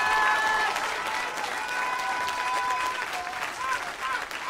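A church congregation claps loudly in sustained applause during worship, with voices and scattered shouts mixed into the dense clapping throughout.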